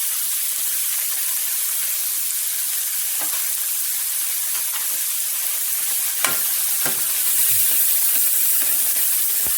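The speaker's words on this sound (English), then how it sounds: "So we're stirring around so it becomes, so the zucchini softens up a little bit." Zucchini frying in a pan with salt and pepper gives a steady, close sizzle and hiss, broken by a few sharp scrapes and clicks as it is stirred around; no one speaks.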